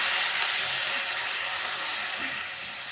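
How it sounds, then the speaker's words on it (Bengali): Warm water poured into a pan of sizzling mixed vegetables for a Bengali danta ghonto, giving a steady, loud broadband hiss and steam rush that fades slightly toward the end, with no talking. "একটুখানি অল্প করে একটু ঈষদ উষ্ণ জল দিলাম সবজিগুলো সুসিদ্ধ হওয়ার জন্য"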